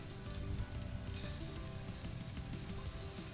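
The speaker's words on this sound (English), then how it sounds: "Next, we're going to add in the prawn. So again, no oil." Prawns searing in a dry pan with no oil, cooked like a steak for a garlic basil seafood dish, give a loud, steady, close sizzle that crackles throughout without any talking.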